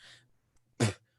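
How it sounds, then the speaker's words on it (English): A person spitting, one short forceful burst after a faint breathy sound, close and fairly quiet, with no talking. "Sorry, I had to spit"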